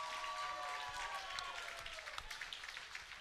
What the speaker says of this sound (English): how about a round of applause for one great main event?